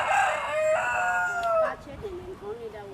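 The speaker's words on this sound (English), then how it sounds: "That's my chicken, rooster." Rooster crowing close by on a farm gate area, one loud drawn-out crow that falls away at the end, followed by softer background noise and faint clucking.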